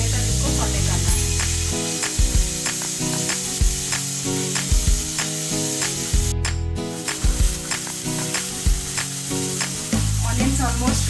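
Onions sauté in a hot pan with a loud, constant sizzle and spatter, while a spoon stirs and scrapes in repeated rhythmic strokes over the frying.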